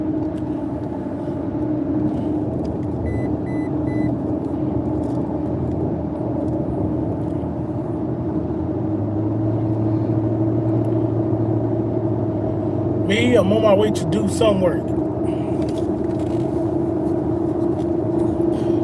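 A truck loaded with work equipment drives along, its engine a low steady rumble inside the cab throughout, while someone talks briefly over it.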